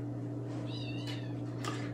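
A cat meows twice on a family homestead, a short rising-falling call followed by a second fainter one, heard fairly close over a steady low background hum.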